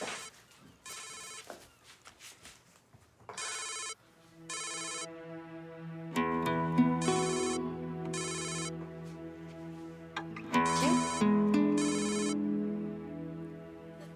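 A mobile phone ringtone plays a repeating melodic electronic tune indoors, starting with short bursts and then settling into a steady, fairly loud ringing pattern with no one speaking over it.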